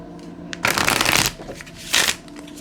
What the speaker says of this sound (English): Let me shuffle that one more time.